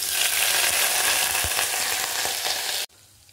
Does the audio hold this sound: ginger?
yes